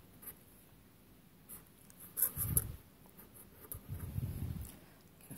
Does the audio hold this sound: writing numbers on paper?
yes